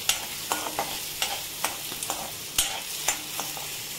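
Green peas being stirred and fried in oil in a pan: a soft steady sizzle broken by about a dozen sharp spoon scrapes and clicks at an uneven pace, close and fairly quiet, with no talking.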